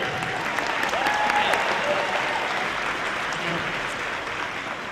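A large audience claps at a Southeastern Oklahoma State University fall commencement ceremony, a broad, even wash of applause that swells slightly and then holds steady, reverberant and somewhat distant in a big hall.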